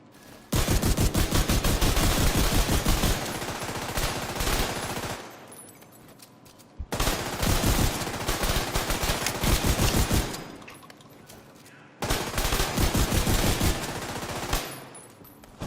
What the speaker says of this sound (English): rate of fire on that ACS 12 when you get that into the light